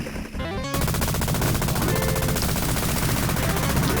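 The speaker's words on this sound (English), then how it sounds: "the machine gun with the stronger, faster shots" Machine gun power-up in the 1988 Cabal arcade game from TAD Corporation/Fabtek, a loud, fast, evenly pulsing stream of shots that starts after a brief lead-in and continues without pause to the end.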